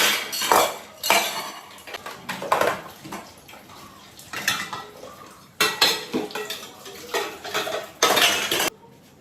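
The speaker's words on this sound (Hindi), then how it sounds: "सारे बर्तन कुकटॉप के ऊपर से हटा दिए, जो भी वॉश करने वाले सिंक में डाले" Kitchen pots, pans and cutlery cleared off a cooktop and dropped into a sink for washing: loud, close clanks and metallic clinks in irregular bursts, with scraping and some running water between.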